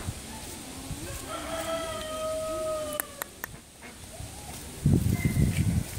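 An Oriental black-billed stork gives drawn-out tonal calls up close, followed by a few sharp clattering clicks. Louder rustling noise comes at the end.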